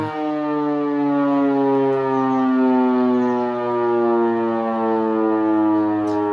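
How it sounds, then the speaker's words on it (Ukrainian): A fire alarm siren in Germany wails loud and close, one sustained rich tone holding steady with slight rises and falls for several seconds, no voices. "Пожарна сигналізація."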